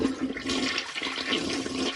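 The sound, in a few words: toilet flushing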